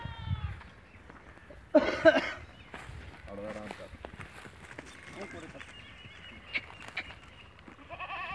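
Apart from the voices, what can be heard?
goat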